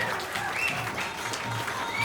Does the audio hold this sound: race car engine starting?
no